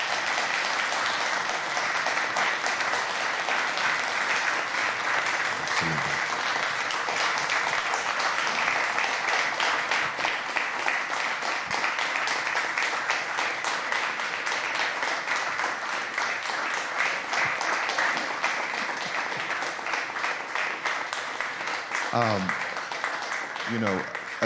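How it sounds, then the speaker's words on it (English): Sustained audience applause at a law enforcement community event, many hands clapping in a dense, even roar that lasts over twenty seconds with a few faint voices and brief cheers mixed in. "Would you all give them a round of applause"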